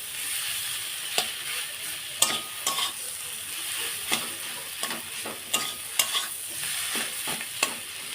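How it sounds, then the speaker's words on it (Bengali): Roughly broken potato momo filling sizzling in a pan, with a constant hiss and repeated spatula strokes scraping and knocking against the metal at an uneven pace, near and clear, with no one talking. "কাঁচার থেকে এইভাবে ভেজে করবেন দেখুন খেতে খুব ভালো লাগবে"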